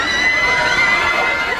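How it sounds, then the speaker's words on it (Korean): Fans at an airport cheering for Ryu Si-won, a dense, continuous wash of excited crowd screams and shouts, loud and sustained throughout with no breaks. "공항 밖에 류시원이 등장하자 그를 알아본 팬들의 환호가 이어졌는데요."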